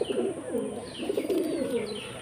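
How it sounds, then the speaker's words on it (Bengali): A single male homing pigeon gives a soft, low, rolling coo, repeated in quick throaty pulses, fairly quiet. "এটা একটা নর পায়রা"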